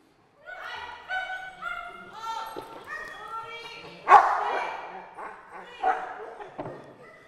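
Dog yipping and barking during an obedience training session, a run of high, excited barks and whimpers close by, under and between a voice giving commands in Italian.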